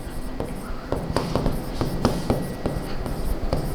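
Pen or marker strokes on a board as an English-errors practice sentence is written out, with crisp taps and scratchy strokes at an irregular pace, close and moderately loud, no talking over it.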